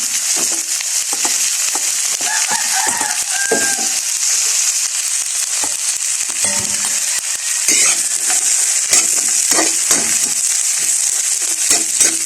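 Eggplant, bitter gourd and other vegetables stir-fry in oil in a pan with a steady loud sizzle, broken by repeated scraping and stirring clatter from the utensil.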